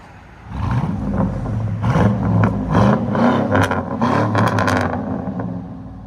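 A 2005 GMC Sierra 1500 with a 5.3L V8, true dual exhaust, Flowmaster Super 10 mufflers and quad tips revs loudly up close, with several rising and falling blips and a deep burbling rumble between them.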